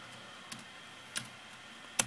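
Three separate keypresses on a computer keyboard while coding in Xcode, sharp isolated clicks spaced about half a second apart against a quiet background.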